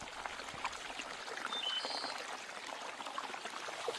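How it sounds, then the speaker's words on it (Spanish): Falling water of the Saladillo stream, a small waterfall, pours in a steady, moderately distant broadband rush that holds evenly throughout with no voices. "Eso parece ser el sonido de una caída de agua."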